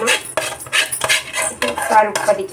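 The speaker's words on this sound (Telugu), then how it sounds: "పోపు యాడ్ చేసుకుంటున్నాం." A metal spoon clatters and scrapes in a pan as a tempering of oil, spices and plenty of garlic is stirred into curry leaf pickle chutney, with irregular loud knocks and scraping strokes close by.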